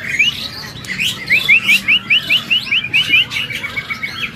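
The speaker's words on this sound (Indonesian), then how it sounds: "Burung udah bunyi ya, Mas?" A songbird at a bird-selling kiosk sings a lively run of quick, repeated bright chirps and whistled notes, close and clear, with a faint low hum of the shop behind.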